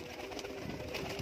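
Pigeons offered at a low-price pigeon sale give soft, steady cooing and bird calls throughout, faint and somewhat distant, with no voices over them.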